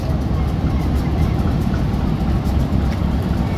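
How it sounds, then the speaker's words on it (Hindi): Diesel railway engines pull the Jaffar Express out of Aab-e-Gum station, with an extra banker engine attached at the rear to push, a steady, loud, low rumble that runs unbroken with no talk. "अब ये डैश करते हुए आपको दिखाऊंगा इंजन,"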